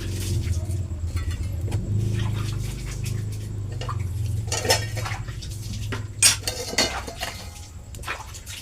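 Oil poured into a hot pan for tomato chutney, giving a steady low sizzle and hiss with occasional clinks of a utensil against the pan, close and moderately loud.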